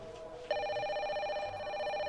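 A telephone rings with a bright, steady electronic tone that starts abruptly after a moment of quiet and holds on continuously, close and clear.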